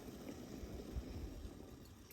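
Water heats in a lidded pot on a camp stove during a winter canoe camping trip on the Buffalo National River, giving a steady, quiet, low bubbling rumble with no talking.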